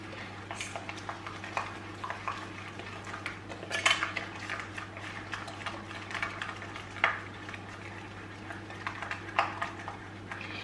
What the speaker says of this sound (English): we're going to take a spoon and mix these all together